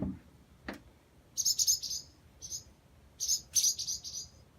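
Bursts of high, thin chirping come in two clusters, fairly close, over a quiet background with a brief knock early on.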